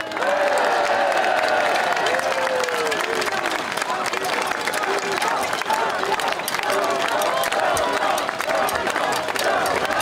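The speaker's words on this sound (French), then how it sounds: "Je vais vous demander d'applaudir" Crowd applauding Florian Philippot at an outdoor political rally in Paris: dense, sustained clapping and cheering from a large gathering, with voices and shouts mixed in throughout.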